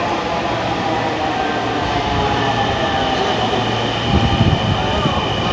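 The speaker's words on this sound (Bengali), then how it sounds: "এই যে ট্রেনটা ভাই আপনি আমার সাথে থাকবেন ট্রেন চলে আসছে" A Dhaka metro train rumbles into the station with a steady roar and rattling that builds toward the end, loud and close, with faint voices in the background.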